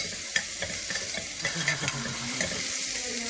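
Cut onions and potatoes fry in a hot pan for a vegetable pulao and are stirred quickly, with close scraping and clattering over a continuous sizzle and no talk.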